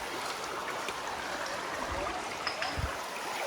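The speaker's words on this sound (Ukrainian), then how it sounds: "Тут вона настільки мілка, що можна взяти і перейти річку." A shallow mountain river near Kolomyia flows steadily over stones, a continuous broadband rush with faint trickles and a couple of soft low thumps, heard alone without voices.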